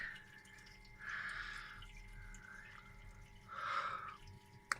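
A Grainfather brewing system pump hums steadily while water gurgles and sloshes through it in two swelling bursts as it recirculates, with a faint click at the end.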